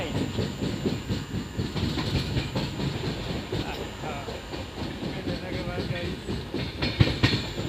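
A long-distance Indian passenger train pulling into a station in monsoon rain, with rhythmic wheel clatter, hiss and rumble close by, and voices faintly mixed in.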